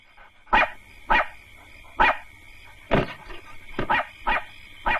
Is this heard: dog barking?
yes